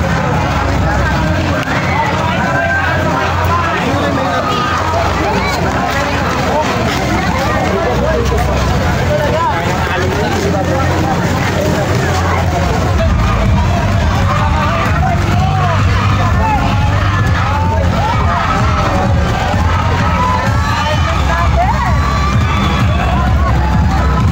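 Loud, dense crowd noise at a street parade: continuous shouting, cheering and babble mixed with passing vehicle rumble, close and sustained throughout with no pauses.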